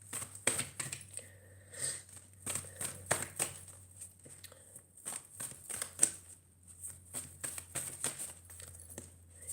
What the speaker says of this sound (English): I can't shuffle them with a big book in it.